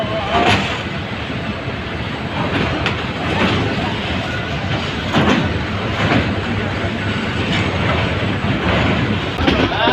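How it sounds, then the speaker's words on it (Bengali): A Dhaka-bound mail train runs along the rails entering Tongi Junction, Bangladesh, with a continuous loud rumble and periodic clacking bursts, a few faint voices mixed into the noise. "ঢাকাগামী মেল টঙ্গী জংশনে প্রবেশ করছে"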